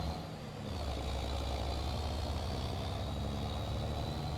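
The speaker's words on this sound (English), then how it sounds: "I do love the sound of this old truck." An old truck on agricultural tires idles in the Farming Simulator 22 video game, a steady, close, low engine drone that holds an even rumble throughout.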